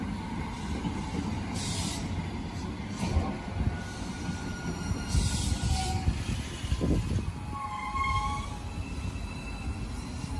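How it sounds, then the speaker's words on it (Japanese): A JR Joban Line limited express train idles at a platform at Kairakuen Station with a steady rumble and hiss, while faint chimes and a brief metallic squeal sound through the station. "この電車は特急電車です。"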